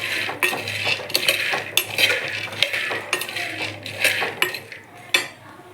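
Peanuts dry-roasting in a pan are stirred continuously, giving repeated scraping and rattling sweeps with sharp clinks from the spoon against the metal, close and moderately loud, with no talking.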